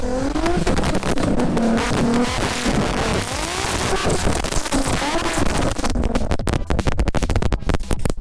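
Tuned Nissan 370Z engine and exhaust, loud and close, with rising and falling revs through a sustained throaty drone that turns choppier and crackling near the end.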